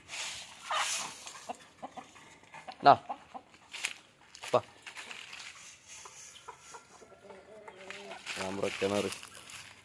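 Country chickens clucking and squawking in short calls around a feeding area, near and moderately loud, with someone talking over and between them.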